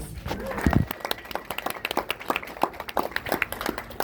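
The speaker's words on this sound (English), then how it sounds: "Let's give them a big round of applause" Wedding guests clapping for the maids of honor at a reception, a scattered round of applause from a modest crowd following a brief low thump, irregular claps continuing evenly across the room.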